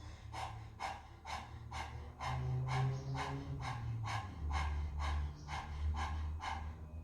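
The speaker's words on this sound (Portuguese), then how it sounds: "A gente vai fazer uma respiração bem acelerada, rápida, toda pela boca, com a língua para fora. É a respiração do leão." Rapid yoga lion's breath, forced quickly through the open mouth with the tongue out, repeating in an even pulse about twice per second, close and loud, over a low steady background drone.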